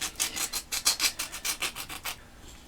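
A wooden spoon is sanded with 120 grit sandpaper in quick, even back-and-forth rubs, about a dozen close, soft, gritty strokes with no voices.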